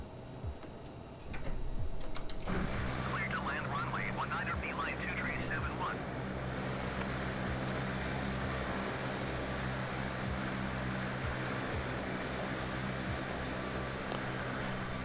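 A CRJ-700 regional jet taxis in Microsoft Flight Simulator, its steady engine roar rising after a quiet start and holding loud and even to the end.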